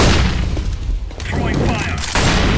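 A grenade and a flashbang go off in a first-person shooter match, a loud boom burst at the start followed by another blast near the end, with game sounds throughout.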